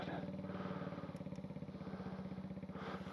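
A motorcycle engine runs at a quiet, steady idle with an even low pulsing beat, close but faint, throughout a few seconds.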